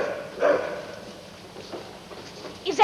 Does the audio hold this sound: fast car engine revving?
no